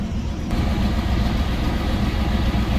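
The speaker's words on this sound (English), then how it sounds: "Right there, I'm idling at about 1700." A carbureted car engine idles steadily at about 1700 rpm with a low, even rumble that holds throughout, growing slightly fuller after the first half second. No voices.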